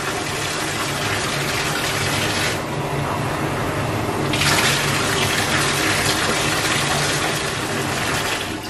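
Water runs steadily from a tap while a dog is bathed, a loud continuous gush that drops briefly for about two seconds midway and then resumes at full force.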